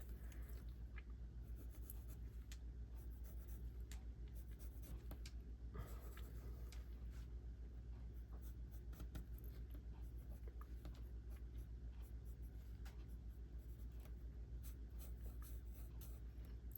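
A pencil scratches across paper in soft, irregular strokes, faint and close, over a steady low background rumble like a passing road vehicle or engine hum, with no talking.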